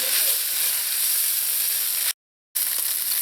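Pastelle pie filling fries in a pan with a steady, close hiss and sizzle, cut by a brief total dropout near the end before the sizzling resumes.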